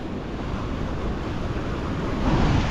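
Sea waves washing over a rocky shore near a coastal Shiva temple, a continuous close rushing roar with wind buffeting the microphone and a slight swell toward the end.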